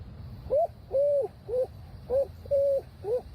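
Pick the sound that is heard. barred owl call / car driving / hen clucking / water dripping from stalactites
barred owl call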